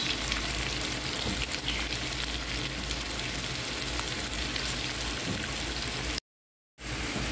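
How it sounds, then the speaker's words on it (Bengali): Onion and garlic fry in a pan with cumin as a tempering for lentil dal, giving a loud, steady, crackling sizzle that runs unbroken until a brief drop to silence near the end. "এখন পেঁয়াজ রসুনটা বাদামি করে ভেজে নিব।"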